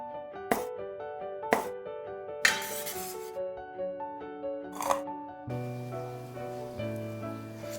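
Chinese sausage (lap cheong) sliced into half-centimetre pieces on a cutting board, giving a few sharp, separate knife taps over steady background music.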